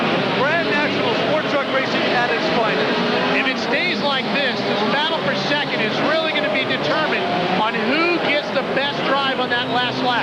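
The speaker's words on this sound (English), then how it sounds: "This is tremendous racing. Grand National Sport Truck Racing at its finest." Grand National stadium trucks racing in 1993, their engines roaring loudly and steadily with revving pitch shifts as they pass, under continuous race commentary.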